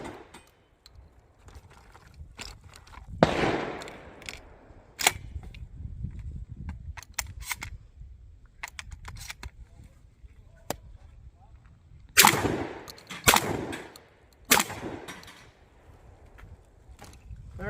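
A Browning A5 12 gauge semi-auto shotgun fires several sharp reports outdoors, sometimes a single shot and sometimes a quick pair, separated by quieter stretches with faint handling noise and occasional talk.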